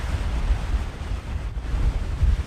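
A moorland river rushing through Tavy Cleave on Dartmoor, a steady low roar of flowing water with wind buffeting the microphone, continuous and fairly loud with no voices.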